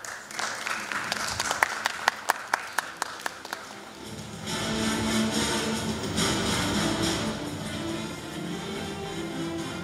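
Applause at an award ceremony, starting with a few sharp individual claps before a full audience joins in a steady, dense roar of clapping that holds to the end.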